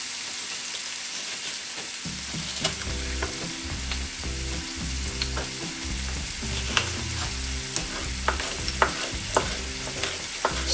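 Food fries in hot oil for a Jamaican steamed callaloo dish, giving a steady, close sizzle with bright crackles and pops scattered throughout and no talking.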